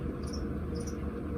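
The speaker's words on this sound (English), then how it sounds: "This is chirping." A cricket chirps in a steady, continuous high trill, close and fairly loud, with no voices over it.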